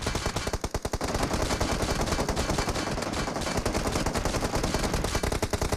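Sustained rapid automatic gunfire in the mobile battle-royale game PUBG Mobile, loud and continuous bursts filling nearly six seconds with no talking.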